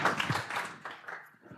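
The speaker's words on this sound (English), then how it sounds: "Round of applause for our volunteers." Brief audience clapping for volunteers at a tech talk, a short scattered round of applause that fades quickly, fairly faint in a hall.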